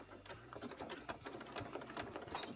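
A sewing machine stitches in reverse along the zipper of a leather bag, a close, steady run of rapid needle strokes with no voices.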